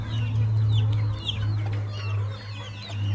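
Chickens and fluffy chicks cluck and peep close by, with a steady low hum running beneath the short, scattered calls.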